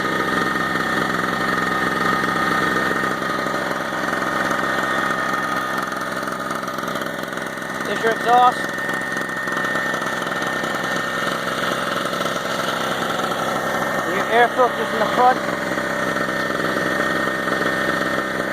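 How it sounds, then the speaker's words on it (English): A Storm Cat 900-watt two-stroke recreational gas generator idles steadily and loudly throughout, a constant droning hum, with someone briefly talking over it twice. "it is a little loud, but you know, it's a generator"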